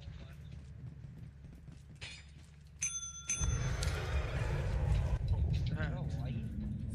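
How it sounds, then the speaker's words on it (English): A bell dinged twice in quick succession in the video game Lethal Company, bright and ringing, followed by a rise in noisy background sound, with voices in the mix. "I dinged the bell two times and I died."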